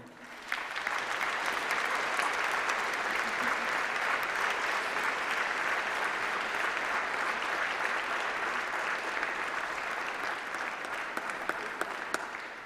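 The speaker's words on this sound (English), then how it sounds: "shall we have a round of applause for all those special people who are celebrating with you here today?" An audience applauds at a graduation ceremony: dense, even clapping from a large crowd that starts almost at once and holds steady for about twelve seconds before easing slightly at the end.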